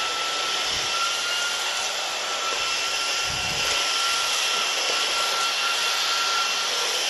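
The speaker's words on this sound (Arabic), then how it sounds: "مثل ما شفتوا مكنسة كهربائية جميلة جدا" A cordless electric vacuum cleaner runs steadily with a constant high-pitched motor whine and airy suction hiss, close and unchanging throughout, with a couple of faint low thumps.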